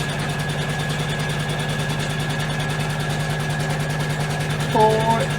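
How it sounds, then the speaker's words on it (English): An embroidery machine stitches an outline on tearaway stabilizer held in a hoop, giving a fast, even, buzzing needle rhythm that runs steadily throughout, with a brief extra whirring tone near the end. "the first thing I'm going to do is stitch the outline to show exactly where we need to place"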